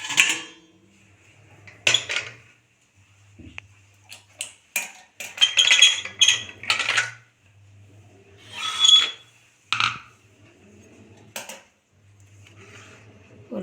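Steamed idli made from traditional kattuyanam rice being lifted out of metal steamer plates, a series of sharp metallic clinks and scrapes of utensil against plate in irregular bursts, close and fairly loud with quiet gaps between.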